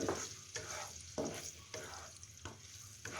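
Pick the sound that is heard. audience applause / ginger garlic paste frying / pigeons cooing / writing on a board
ginger garlic paste frying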